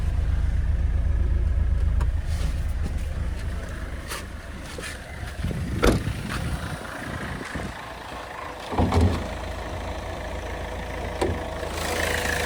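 A 2008 Hyundai Verna idles steadily at close range, a low, even engine hum that holds its pitch, with a few brief knocks and clatters over it.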